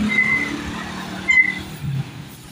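A line of vehicles idles on the road out of Tangalan, Aklan, with low engine rumble, a couple of brief high squeals, and a louder vehicle surging briefly partway through.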